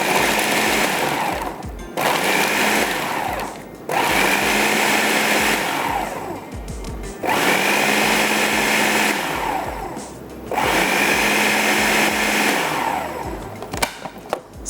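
An electric chopper whirs as it minces onion for chapli kebab, running in four loud, steady bursts of about two seconds each, separated by brief pauses, with a faint knock at the end.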